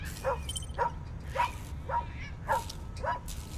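A dog barks in the video game Tales of the Neon Sea, six evenly spaced sharp barks at a steady rhythm, moderately loud over a low ambient hum, with no voices.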